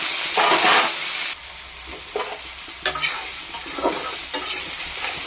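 Potatoes and onions fry in a wok with repeated spatula stirs scraping through a bright, close sizzle that surges and settles in bursts.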